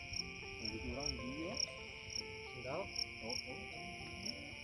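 Fighting crickets chirp steadily in dense undergrowth, a high continuous trill, while people talk nearby over it.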